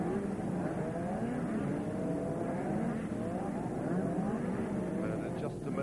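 Formula One race cars, led by pole-sitter Keke Rosberg in his spare car, roll slowly around the circuit on the pace lap, a steady blended engine drone from several cars at moderate distance, with no sharp revving.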